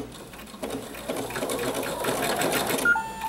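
A sewing machine stitching fabric and batting for an owl mug rug, its rapid needle chatter running steadily and close at moderate volume throughout.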